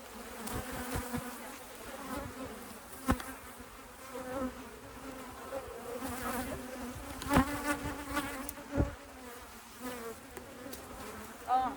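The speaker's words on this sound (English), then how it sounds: "the bees are hovering over it" Bees hover and buzz over a top bar hive, a dense continuous hum with sharp passing buzzes and occasional knocks close by.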